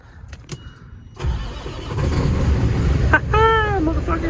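An old truck that has sat unused for over a week cranks briefly, then its engine catches and settles into a steady rumbling idle, with a voice speaking over it near the end.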